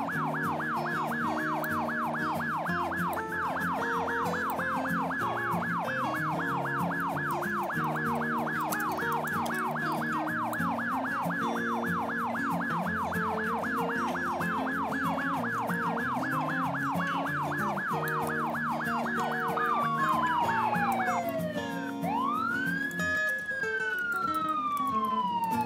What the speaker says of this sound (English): Alright, I'm initiating the annoying siren.